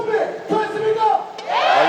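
An esports crowd at a StarCraft 2 finals event shouts a loud, swelling cheer of agreement, rising in waves over about two seconds.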